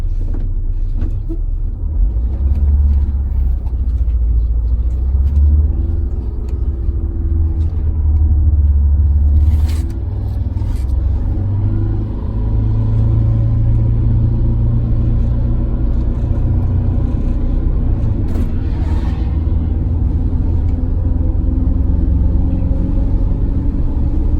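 A bus engine grinds uphill under acceleration, a loud continuous low rumble heard from inside with gear changes and a few rattles and knocks along the way, without talking.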